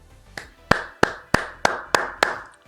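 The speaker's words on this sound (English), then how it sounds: "I just have to give myself a little bit of a clap." Seven sharp hand claps ring out alone at a steady, deliberate pace, each a crisp, close, loud smack with a short decay and no talking between them.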